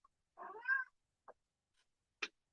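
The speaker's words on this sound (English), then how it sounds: "What are you meowing about?" A house cat named Bella gives one clear, close meow followed by a couple of tiny chirps and squeaks, with quiet gaps between them.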